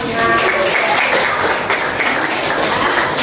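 A school class of students bursting into applause in a classroom, a dense steady patter of many hands clapping for about three seconds, with some voices mixed in.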